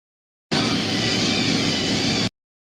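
A pulling tractor's engine blasts a loud, steady roar continuously for about two seconds, dense and rumbling with no letup, then cuts off abruptly.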